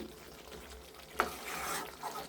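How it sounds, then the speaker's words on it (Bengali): Chicken pieces and spices being stir-fried in a pan for spicy home-style chicken bhuna: a soft, steady sizzle with one sharp scrape of the spoon midway, followed by a brief surge of frying and stirring. "6-7 মিনিট এভাবে আমি একটু একটু করে ভালোভাবে কষিয়ে নিব"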